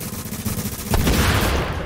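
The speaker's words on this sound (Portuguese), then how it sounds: "5 tiros no cara e 10 tiros nas costas do mangolão" Rapid gunfire from The Division on PC rattles close and loud in quick bursts, growing denser and heavier halfway through.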